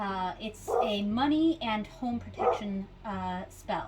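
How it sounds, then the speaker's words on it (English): A dog barks outside the house in a few short bursts, partly masked by someone talking steadily close by. "sorry about the dog barking. She's right outside."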